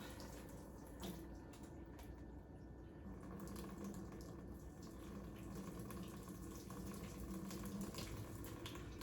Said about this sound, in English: So I'm just gonna water them and let them drain out.